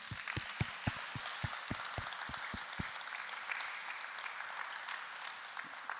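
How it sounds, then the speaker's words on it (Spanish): A church congregation gives a round of applause, opening with loud, evenly spaced rhythmic claps for about three seconds, then carrying on as a dense, steady wash of clapping. "Yo quiero que les demos un fuerte aplauso a todos."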